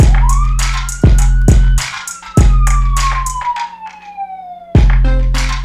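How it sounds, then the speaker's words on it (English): A siren sound effect in an FL Studio pop beat glides up then slowly falls, layered over a thumping beat with sharp rhythmic hits, loud and up front. "For the intro, we could add like a siren too."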